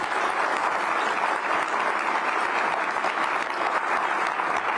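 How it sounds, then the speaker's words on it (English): Sustained, dense applause from a ceremony audience at a public service salute in Washington, D.C., loud and steady throughout without voices over it. "So give yourselves a round of applause."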